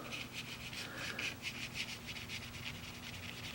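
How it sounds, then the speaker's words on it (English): Soft, rhythmic scrubbing of a brush against paper, repeated quick strokes, close and quiet against a faint background hum. "you can probably hear the brush on the paper"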